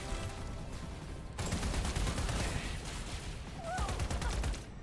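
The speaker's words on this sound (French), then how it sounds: "Ça tire en tous les coins." Rapid bursts of gunfire from many directions in the video game Wildgate, dense sustained shooting at moderate level with a brief quieter gap, and a faint voice underneath.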